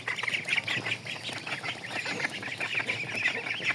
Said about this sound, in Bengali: দেখেন এই যে হাঁসগুলো আমি ছেড়ে দিব